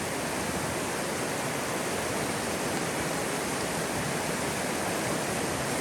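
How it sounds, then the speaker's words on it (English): The South Salmo River in the Salmo-Priest Wilderness, a steady broadband rushing roar of flowing water, close and unchanging, with no other sounds. "We made it down to the South Salmo River."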